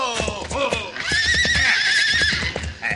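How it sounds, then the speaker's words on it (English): A horse neighs loudly in a long, shaky whinny on an old Western radio drama, close and clear with faint hoofbeats around it. "Head off that horse, Max."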